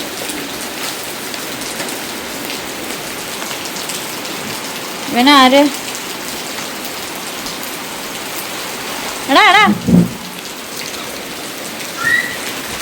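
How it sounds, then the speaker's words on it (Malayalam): Steady, dense rain pours down nearby in an unbroken wash of hiss, while a few brief voices call out over it now and then. "നല്ല മഴ."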